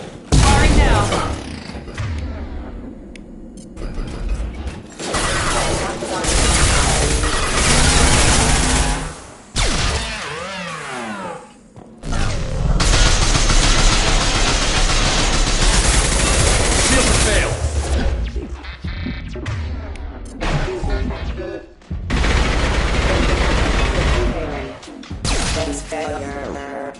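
Heavy gunfire and explosions in Mass Effect 2, loud sustained bursts of shooting broken by short lulls, with booming impacts and a voice heard now and then.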